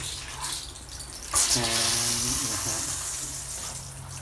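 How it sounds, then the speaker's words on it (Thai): Water runs from a tap into a water heater, starting with a sudden gush and then settling into a steady, close rushing flow that fades slightly toward the end. "เปิดน้ำแล้วนะครับ"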